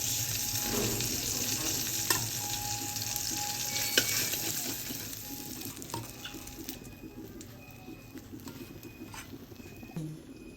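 Steady broadband sizzle of tilapia fish frying in oil, close and continuous, with occasional clinks and faint bird calls in the background; no one speaks.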